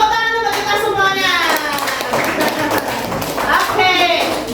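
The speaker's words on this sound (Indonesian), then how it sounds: "Tepuk tangan untuk kita semuanya." Schoolchildren in a classroom give a round of hand clapping, a close patter of claps mixed with loud overlapping children's voices and chatter.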